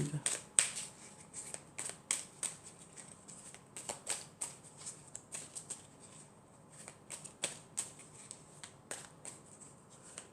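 Oracle angel-message cards being shuffled and drawn during a card reading, giving a run of quiet papery riffles and flicks with sharp snaps, close and fairly soft, while someone speaks French over them.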